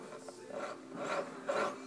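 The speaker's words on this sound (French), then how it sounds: "je sculpte le métal à la scie" A jeweler's saw cuts into metal to sculpt braided links, making a few quiet, rhythmic rasping strokes, close and alone.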